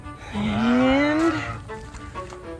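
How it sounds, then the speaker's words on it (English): A cow on a farm lets out one long, loud moo that rises in pitch and breaks off, followed by quieter lowing and farmyard background. "I had to distract the cows."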